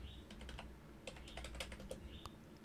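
Rapid, irregular keystrokes on a computer keyboard while typing a command in a Kali Linux terminal: fairly soft, close clicks in quick uneven bursts with short pauses and no talking.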